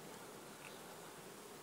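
Honey bees buzz steadily at an apiary as sugar feed is handed out to the hives, a soft, even drone with no voices over it.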